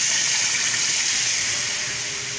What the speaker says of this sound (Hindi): तो व्यूअर्स अब हम इसमें पानी शामिल कर देते हैं।